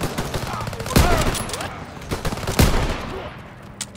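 Bursts of World War II gunfire from Call of Duty: WWII crack loudly in two sharp volleys with scattered shots between, amid battlefield noise and shouted voices.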